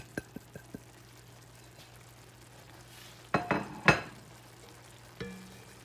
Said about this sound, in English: Just give that a light mix. And let that start simmering while we're waiting on our pasta.